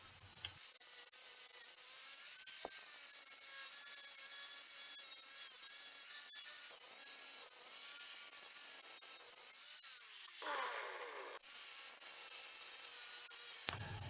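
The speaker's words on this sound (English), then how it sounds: "The wire wheel will do a good job of removing all the paint" Continuous harsh abrasive scrubbing of a wire wheel stripping paint from a metal field target, steady and loud for the whole stretch, with no talking.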